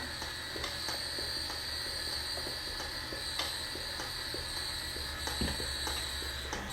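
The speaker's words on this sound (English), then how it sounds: "I just keep the mixer going on low" An electric mixer runs steadily on low speed through banana cake batter, giving a continuous whirring hum with a light, regular ticking and clicking in it. No one speaks.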